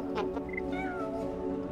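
In the video game Stray, a cat gives a couple of short, close meows against a faint steady background hum.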